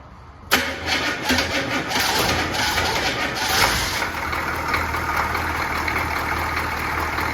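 A squarebody pickup truck engine cranks and catches abruptly, surging loudly before settling into a rough, steady idle close to the microphone, with faint birdsong in the background.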